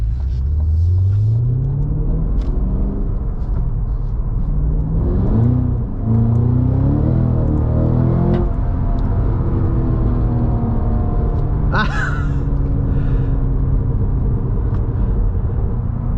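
A 2022 Cadillac CT5-V Blackwing with a 662-horsepower engine and a 6-speed manual accelerates hard, rising through the revs in loud sweeps, with a gear change and a second pull, heard from inside the car.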